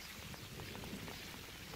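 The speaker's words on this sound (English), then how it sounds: "The rain trickled down his back" Steady rain falls with a dense, even patter and soft scattered drops, continuous and fairly close, with no voices.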